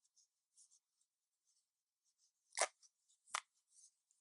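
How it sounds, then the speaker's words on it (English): Coast BX313 Pro Predator knife slicing through a sock, making two sharp, close cutting strokes among faint scratchy rustling in an otherwise quiet setting. "Cut through this sock here."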